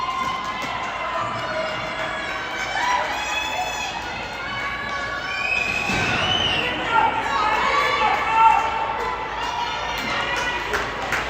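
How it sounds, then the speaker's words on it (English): Hockey moms in the stands at a youth squirt hockey championship game in Forest Lake cheer and shout continuously, high excited voices overlapping across the rink with a swelling peak partway through. "The crowd getting into it over here. CCHA moms loving every second of that one"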